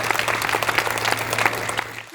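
Audience applause at a Hindi poetry recital in Meerut, a dense burst of close clapping from a crowd that continues steadily before cutting off.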